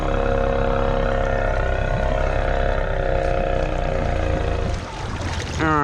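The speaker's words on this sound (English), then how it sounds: "We might have got stuck because I sat here spinning the tires for too long." A lifted Rancher ATV stuck in snow revs hard and steadily while its tires spin, a close, loud engine drone that dips briefly near the end and then rises again.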